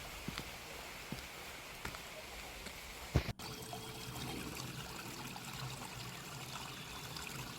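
Continuous babbling of a mountain stream flowing over rocks beside a trail on Cheonggyesan, steady and close, with a sharp knock partway through and faint voices in the background.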